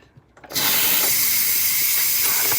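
A sudden loud, continuous hiss of steam bursts out of a pressure pot cooking pasta after a brief quiet moment and keeps rushing steadily to the end.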